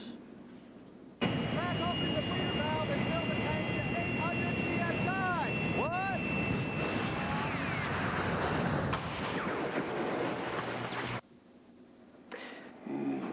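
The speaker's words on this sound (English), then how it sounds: "We can if we give everyone jet propulsion packs." A jet propulsion pack in a car rental TV commercial from 2000 makes a loud, steady roaring whoosh like a jet engine for about ten seconds, then cuts off abruptly.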